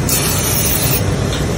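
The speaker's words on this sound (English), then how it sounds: "and then we're gonna actually have Jabril spray the pan down." Cooking spray hisses steadily onto a pan for about a second and a half at a cooking demonstration, a loud continuous airy spray with no talk over it.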